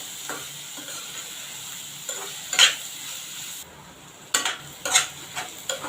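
Onion sautéing in a pan with a soft, low background sizzle, broken by a few sharp clinks and scrapes of a spoon against the pan.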